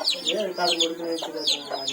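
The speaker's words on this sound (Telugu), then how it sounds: "చూడు కోడి కోడి కోడి కోడి చూడు" Chickens cluck and squawk on a village farm in a quick run of sharp, close calls, with voices faintly in the background.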